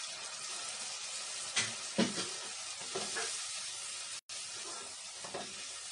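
Water is poured into a hot pan while cooking a simple homemade aubergine dish and sizzles strongly, a continuous loud hiss with a few sharper bursts as the liquid hits the metal, with no talking.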